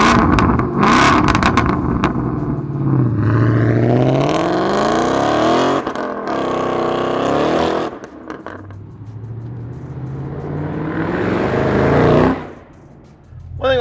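A 2018-2023 Mustang GT V8 with an MBRP Street 3-inch cat-back exhaust and 4-inch polished quad tips drives on the road, rumbling loudly through repeated revs and accelerations that swell and fall, with a quieter idle stretch near the end.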